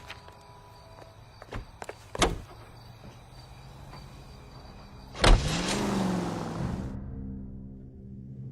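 Car in the L.A. Noire video game: a door thud and engine start at mid-clip, followed by a steady engine hum pulling away, after a few earlier clunks and footsteps.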